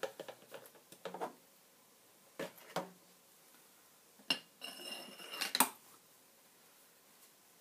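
A ladle of hot rhubarb cordial, just off the boil, goes through a funnel into a sterilised bottle: sparse clinks and knocks of utensils against glass, with short bursts of pouring and splashing between quiet pauses.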